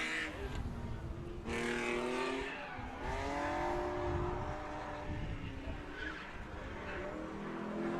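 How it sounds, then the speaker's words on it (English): A Fox body drift car spins out on turn 1 at a winter drift event, tires howling in a loud, wavering skid over continuous engine roar, heard from a distance with crowd and track noise beneath. "the Fox body spun out on turn 1"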